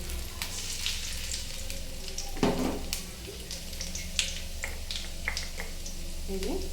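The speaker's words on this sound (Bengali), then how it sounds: "তা আমি প্রথমে গড়াইয়ে তেল গরম করে নিয়েছি এরপরে একটু আদা কুচি দিয়ে দিলাম আর দিয়ে দেব কালো জিরে" Chopped ginger and black cumin (kalo jeera) frying in hot oil in a wok for dal, a steady sizzle with a few sharp crackles and spatter pops, faint speech alongside.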